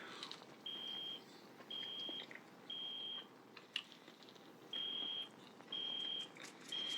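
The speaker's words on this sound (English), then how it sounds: "that alarm going off a second ago was the oven taquitos" Kitchen oven timer alarm for microwave taquitos, sounding six steady high-pitched beeps, each about half a second long, at a regular pace over low room noise, faint and slightly distant.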